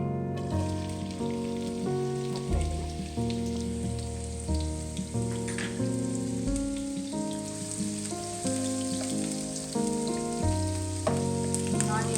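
Sliced onion frying in hot oil in a pan for a cluster beans sabji, a continuous crackling sizzle that stays steady throughout beneath background music.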